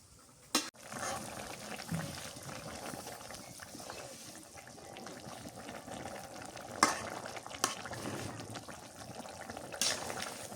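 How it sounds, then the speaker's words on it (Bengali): Fish goes into a pan of bubbling curry with broccoli and capsicum and cooks with a soft, quiet sizzle and simmer. A few sharp clinks and knocks sound over about ten seconds. "মাছ দিয়ে দিই।"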